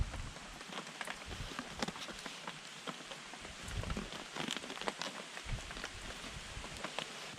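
Rain falls steadily on a surface with dense patter and scattered heavier drops, outdoors during a mountain bike crossing of the Pyrenees from Vielha to Barcelona.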